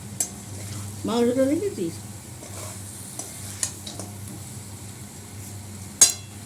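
Potatoes frying with meat in a pan, stirred now and then; a steady low sizzle runs throughout, with a short burst of talk early on and a sharp scrape of the utensil near the end.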